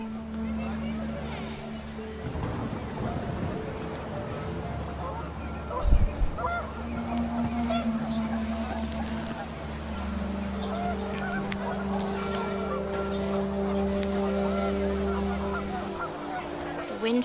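Panicked geese honk repeatedly in What Remains of Edith Finch, a clamor of overlapping calls over wind and steady low ambience, with a spoken voice running on top.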